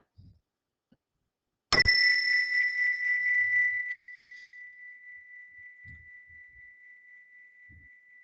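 A single meditation chime rings out clearly once, bright and sustained, then its tone lingers and slowly fades in a quiet room with faint thumps around it.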